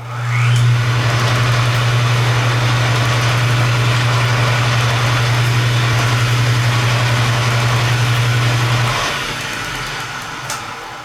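A restored horizontal metal shaper salvaged from a scrap yard, running in third gear with a steady loud mechanical whir and drone that holds constant, then winds down near the end.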